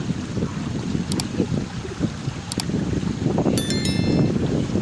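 A channel carries waterfall water downhill through the hills of Vaigaon near Wai, Satara, giving a steady low rushing wash close by, with a few faint high chirps over the flow.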